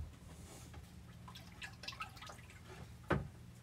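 Scattered drips and a soft trickle of compost tea splashing onto seedlings in soil, with a low hum underneath and one sharper splash near the end.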